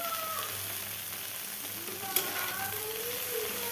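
Greens, potato and eggplant sizzle steadily in hot fish oil in a pan, a continuous close frying hiss with a brief sharp crackle midway.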